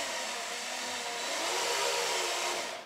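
An electric drill spins a valve during lapping on a Classic Mini 1100 engine rebuild, a steady, close, high-pitched whirring hum that holds constant before tapering off at the end.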